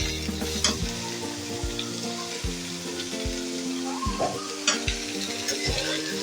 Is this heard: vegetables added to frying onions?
yes